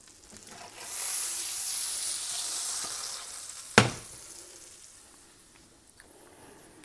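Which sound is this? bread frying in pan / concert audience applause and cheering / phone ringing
bread frying in pan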